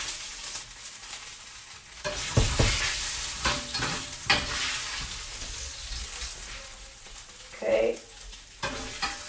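Bacon frying in an electric skillet, a steady crackling sizzle with occasional scrapes and clatter as strips are lifted out, while someone briefly speaks.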